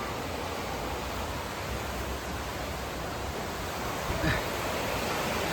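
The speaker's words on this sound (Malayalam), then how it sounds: "വെള്ളം ചാടുന്നതിൻ്റെ സൗണ്ട് കേട്ടില്ലേ" Rushing water from a waterfall beside a walking path at Athirappilly, a steady broadband roar that fills the whole clip at even loudness with no voices over it.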